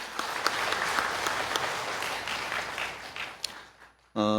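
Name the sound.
church congregation applauding parents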